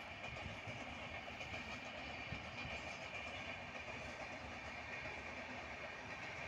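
A train rumbles past steadily, a continuous broad roar with faint rhythmic clatter of wheels on track, heard at a moderate distance with no talking.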